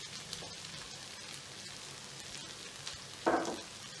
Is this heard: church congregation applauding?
no